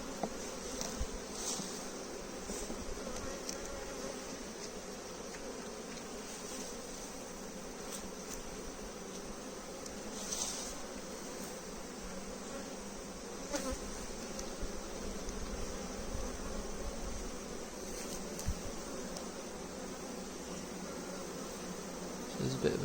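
Honeybees swarming over an opened hive's brood nest after the queen excluder is lifted, a continuous dense buzzing hum close by, with faint occasional voices beneath it.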